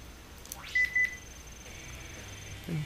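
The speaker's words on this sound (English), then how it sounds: "That's my girlfriend's phone if you hear any beeping or random noises" A mobile phone gives two short, bright beeps in quick succession, fairly clear over a quiet room hum, followed by a fainter tone and a soft low thump.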